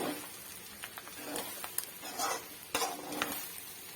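Clam meat stir-fried in a small amount of oil with ground pepper, a steady sizzle with spatula scrapes and stirring knocks against the pan recurring throughout, close and moderately loud, no voices.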